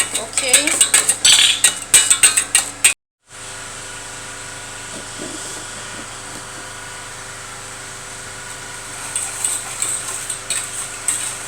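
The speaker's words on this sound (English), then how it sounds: "Now you are going to whisk well." Sugar mixture whisked by hand in a bowl for a no-oven cake, with rapid rhythmic clinking and scraping of the whisk against the bowl for a few seconds, a brief pause, then a softer steady hiss with faint scrapes building again near the end.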